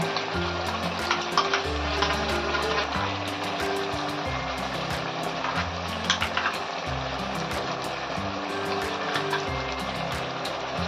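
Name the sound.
onion, tomato and cashew paste sizzling as added to hot oil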